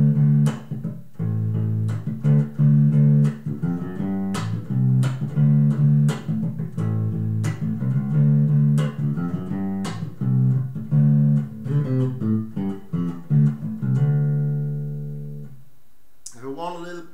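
Self-made PJ electric bass played through its precision pickup, a steady run of plucked notes with deep, round sustained tones and clear attacks, close and alone, ending with a fade and a final brief pluck.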